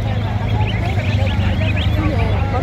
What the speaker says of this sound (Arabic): ما شاء الله وزة شكلها يفرح اهي